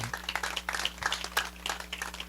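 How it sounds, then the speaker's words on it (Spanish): A church congregation claps during a sermon, quick scattered hand claps at moderate distance over a low steady hum, fairly soft and irregular in rhythm. "Denle un aplauso a Cristo."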